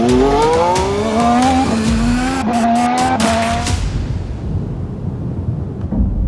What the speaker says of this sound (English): behind the wheel of a modern-day Formula One race car